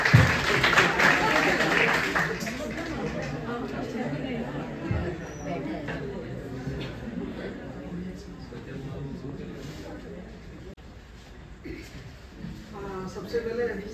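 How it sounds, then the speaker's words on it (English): Applause for Dr. Samad at a retirement function, a dense burst of clapping strongest at the start, then thinning under a steady crowd murmur and talking. "Please welcome sir with a huge round of applause."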